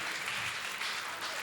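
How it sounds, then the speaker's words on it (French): Steady applause from a church congregation during a French-language sermon, a dense, even wash of clapping that holds at a constant level throughout with no voices over it. "Applaudissons pour le Seigneur."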